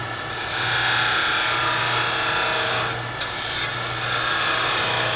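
Brown ebony is parted off on a lathe with a modified hacksaw-blade tool, producing a steady, close scraping hiss over the lathe's low motor hum, with a brief dip partway through and no speech.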